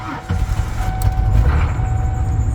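A worn six-cylinder engine in a Ford F-150 pickup running roughly, a loud, close, uneven low rumble that continues throughout.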